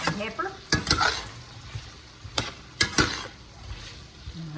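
Sliced potatoes and onion sizzle in a hot pan while a utensil stirs them, scraping and clattering in a few distinct bursts over a steady, close frying hiss.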